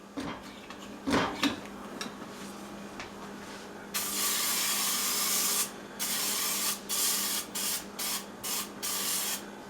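Olive oil spritzed from a refillable sprayer bottle onto a foil-lined cookie sheet: a long steady hiss followed by a run of short, sharp bursts, close and loud, after some light handling noises.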